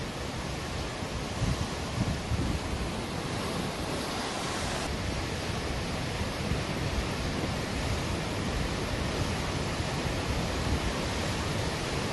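Rushing floodwater in North East India after heavy rain, heard as a loud, steady broadband roar of churning water with no breaks and no voices.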